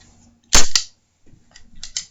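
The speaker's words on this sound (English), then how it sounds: "that noise was the toy gun I had when I was the cowboy." A toy cowboy cap gun fires one sharp, loud crack followed quickly by a second, then a few fainter clicks and snaps trail off at close range.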